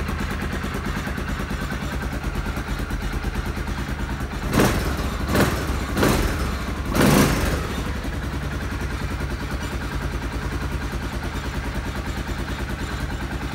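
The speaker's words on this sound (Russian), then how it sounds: "и моторчик тихо работает." The small carbureted engine of a CFMoto X8 moped idles quietly with a steady, even putter, and a few brief clattering thumps from handling interrupt it in the middle.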